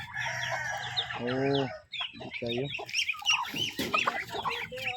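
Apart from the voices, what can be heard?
chicken clucking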